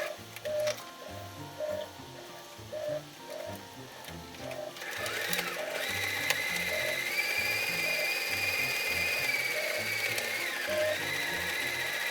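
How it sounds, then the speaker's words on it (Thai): A sewing machine stitches around the edge of a fabric flower cushion piece, its needle running in a fast, steady mechanical rhythm with repeated ticking pulses, close and continuous with no talk. "จากนั้นนะคะก็ให้เพื่อนๆนำไปเย็บรอบชิ้นงานค่ะ"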